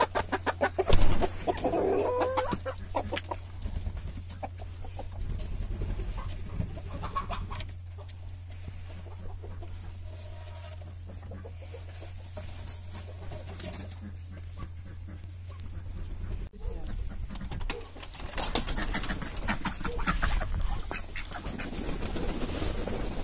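Chickens cluck and birds call in a busy snowy village farmyard in winter, with a steady low hum underneath and scattered rustling nearby.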